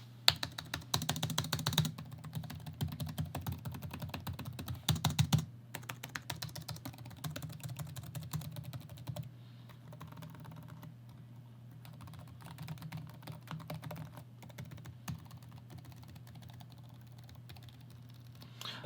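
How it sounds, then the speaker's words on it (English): Someone types on the membrane keyboard of a Gateway Ultra Slim notebook laptop, producing soft, quick, close keystroke clatter in uneven bursts with brief pauses and no talking. "It sounds like a membrane keyboard, typical stuff for a laptop, but nothing super premium."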